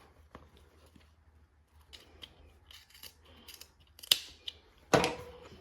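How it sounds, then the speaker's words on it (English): Scissors trim the corners of a fabric seam allowance: soft handling noises, then two sharp, close snips near the end, the second one loudest. "And we're going to go ahead and trim our seam allowance corners"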